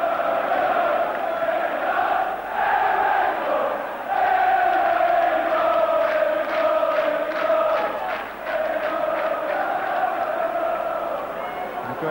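A football crowd at a Birmingham City versus Aston Villa match roars and chants after a goal, a sustained loud wall of voices with rising and falling swells of cheering.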